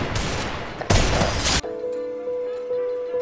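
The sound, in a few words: Desert Eagle pistol gunshots in a video game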